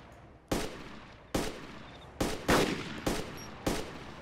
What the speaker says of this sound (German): Warte, ich schieß ihn gleich ab.